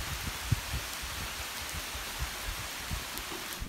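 Heavy rain pours after a thunderstorm in the Đồng Văn highlands, heard from shelter under a bamboo grove, a steady hiss of drops with soft low thumps of drops striking nearby surfaces.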